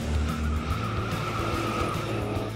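Cartoon monster trucks roaring off at the start of a race, a loud continuous engine rumble with tire screech layered over a steady background, with no talk.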